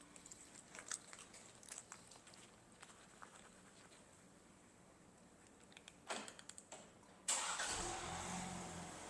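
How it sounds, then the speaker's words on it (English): A car engine cranking and catching near the end after a quiet stretch of faint tapping and handling noises, then settling into a steady idle hum. "Turn on the vehicle."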